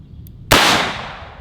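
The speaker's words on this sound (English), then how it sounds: "I'm just going to crack these 5 rounds off and just have some fun with this thing." A single loud shot from an S&W Performance Center 500 Magnum revolver with a 10.5-inch barrel, fired double action: a sharp, heavy blast after a brief click, followed by a long ringing decay, with no talking.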